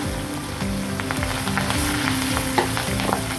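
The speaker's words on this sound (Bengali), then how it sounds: "এর ভিতরে পেঁয়াজ, মরিচ এবং রসুন কুচি করে রেখেছিলাম, সেগুলো ভেজে নেব।" Chopped onion, chili and garlic sizzle steadily in hot oil in a pan after eggs were fried, a continuous crackling fry with occasional stirring scrapes, close and fairly loud, with no talking.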